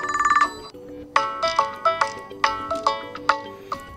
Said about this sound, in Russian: И меняем мелодию звонка.